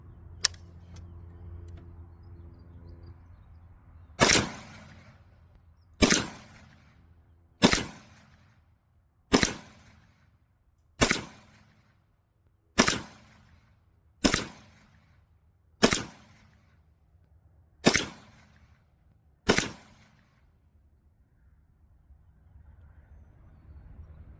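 Palmetto State Armory AAC 7.62x39 ammunition fired from an AKM-pattern rifle outdoors: about ten sharp, loud gunshots spaced a second or two apart, each with a short decaying echo, no talking between them.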